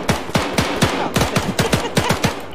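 Rapid automatic gunfire in the Arma 3 battle for Berlin during WWII, about a dozen sharp, punchy shots in quick regular bursts, close and loud.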